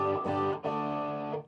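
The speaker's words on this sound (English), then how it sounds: "More of a softer distortion" An electric guitar goes through a Visual Sound pedal on its Tube Screamer-style side, giving a softer, warmer distortion: two sustained overdriven chords, the second struck just past halfway and ringing until a quick fade, with no talking.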